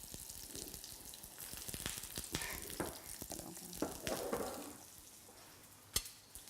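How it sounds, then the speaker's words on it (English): Onions and mushrooms sizzle and fry in a pan for a beef and wine stew, with quiet sizzling broken by the scrape and clatter of a spoon stirring. The stirring knocks come in irregular bursts. "we just stir our onions and the mushrooms, and you can see that they're beginning to colour and caramelise"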